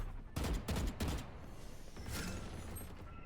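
Rapid bursts of gunfire in a video game, several loud volleys packed into the first second and a half, then a softer rattling tail of continued shooting with faint background noise.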